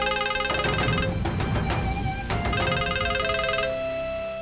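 A phone rings as a call is placed, a bright repeating electronic ringtone pattern sounding continuously and fairly loudly, with no talking over it.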